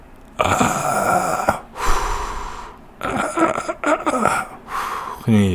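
A voice imitates inspiratory stridor: strained, high-pitched breathing, several harsh whistling gasps drawn in one after another, close and loud.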